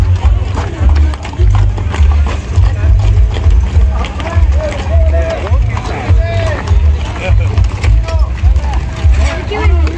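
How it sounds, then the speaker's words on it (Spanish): Horse hooves clip-clop steadily through a loud horseback cavalcade in Badiraguato, under constant crowd chatter and voices, with several horses moving close by. "Vean que bonito este caballito."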